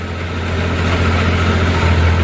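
A steady, loud tractor engine idles on a farm with a deep low rumble throughout, continuous and close.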